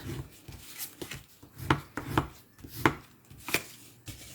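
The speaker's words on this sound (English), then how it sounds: "So I'm just going to find where I've got my bone folder. Just burnish that fold." A bone folder rubs firmly along a folded card base, giving a series of short dry scraping strokes, close and fairly quiet.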